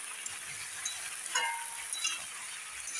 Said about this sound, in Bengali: এখন ভালো করে নেড়ে টেড়ে নিলাম।